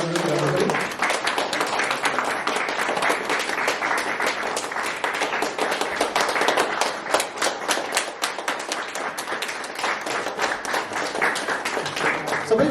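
Audience applauding at a cake-cutting ceremony in a community hall event, with sustained, dense clapping from a sizeable crowd running steadily throughout and a few voices mixed in underneath.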